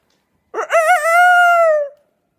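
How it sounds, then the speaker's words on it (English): A single rooster crows once, loud and near, a rising harmonic call that holds and then trails off, alone against silence. "You guys hear the roosters?"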